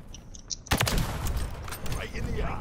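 Gunfire from a gun in a shooting video game, a sudden loud burst of rapid shots followed by scattered sharp reports and clatter, close and dense, with a voice talking underneath.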